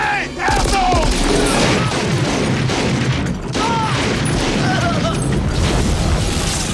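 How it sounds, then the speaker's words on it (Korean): Mysterious explosion in a film scene in a city: dense, loud booms and crashing impacts with scattered gunfire-like bursts, sustained throughout at high level. "의문의 폭발음을 뒤로 마이클과 대원들이 신속히 잠입한 순간"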